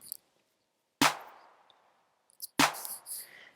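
Drum machine claps laid down at the start of a beat: two sharp, bright hits about a second and a half apart, each with a short decaying tail, alone without other drums.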